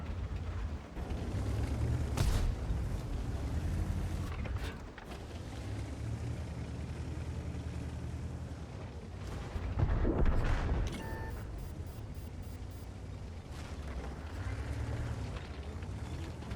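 A tank cannon fires in a tank video game from the AAT60, giving deep booming shots, one near the start and another around the middle, over a constant rumbling engine drone, with no speech.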